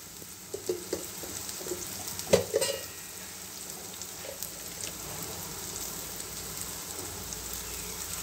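Raw banana slices frying over a low flame in a pan, a steady soft sizzle with a few louder stirring scrapes early on, alone with no voices.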